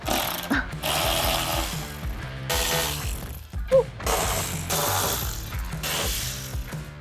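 A ratchet backs bolts out of a Corvette C8 during an exhaust install, three long bursts of loud, fast clicking broken by short pauses, near and alone.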